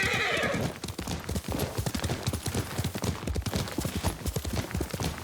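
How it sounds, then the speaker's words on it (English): A horse in the video game Ghost of Tsushima gives a short neigh at the start, followed by a steady, loud clip-clop of hooves that continues to the end. "Yuriko's horse."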